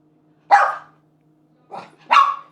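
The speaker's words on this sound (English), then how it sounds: "This is day 1 of operant conditioning with Coco the dog" A dog barks during an operant conditioning training session indoors, with three sharp close barks: one single, then a softer pair about a second later.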